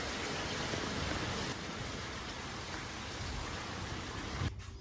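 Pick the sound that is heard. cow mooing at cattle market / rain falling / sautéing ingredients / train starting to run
rain falling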